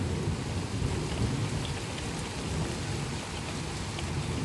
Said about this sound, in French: je suis tombé sur un bel orage